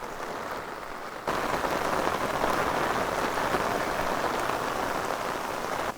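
Steady, dense heavy monsoon rain hisses all around at a hill station in Maharashtra, India. It suddenly grows louder after the first second and keeps pouring without a break.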